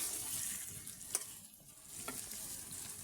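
Fish sizzles as it is fried and stirred in a pan while being cooked down with spices, a steady soft hiss broken by a few scraping strokes of the spoon.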